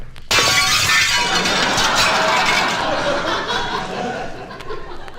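A football crashes through glass French windows in one sudden, loud shatter, followed by seconds of tinkling, falling glass and scattered laughter.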